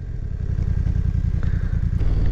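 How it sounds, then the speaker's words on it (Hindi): A BMW F900R with an inline two-cylinder engine thrums at close range, a loud, steady low pulsing throb with a slight clatter and no voices. "इस वाली बाइक की जो आवाज़ है वो थोड़ी सी अलग है बाकी टू सिलेंडर्स की जो बाइक है।"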